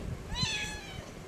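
One brief meow from a cat rises and falls near the start, clear but soft over a low, even room hiss with a few faint bumps.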